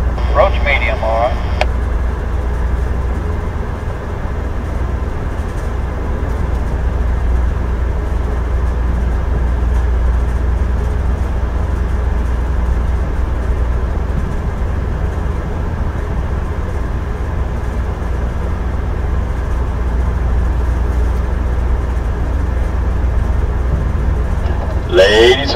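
Steady, loud low rumble of an Amtrak Texas Eagle passenger train pulling out of McGregor, Texas, heard from aboard, continuous for the whole stretch, with short higher tones at the very start and end.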